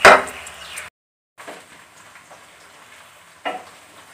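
Onions frying in a pan, a broad crackling sizzle that bursts loudly at first, cuts out briefly, then carries on softer with a couple of sharper stir-like flare-ups.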